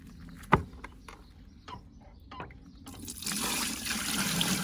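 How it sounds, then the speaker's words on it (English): Dirty carpet-cleaning water poured from a bucket into a drain grate, starting with a few faint trickles and splashes and then swelling into a steady, close rushing pour that runs to the end. "We're just going to pour it into this grate."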